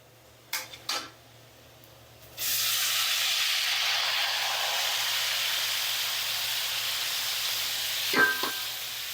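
Yardlong beans and potato tipped into a pan of hot oil with cumin set off a sudden loud, continuous sizzle. A few utensil clicks come before it and near the end.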